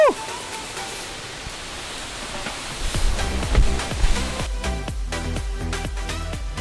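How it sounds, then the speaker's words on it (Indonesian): Continuous roar of the large Efrata waterfall in Samosir, then sharp rhythmic percussive hits and music-like tones come in over the rush. "Air terjun Efrata ini adalah salah satu air terjun yang besar dan berangin basah"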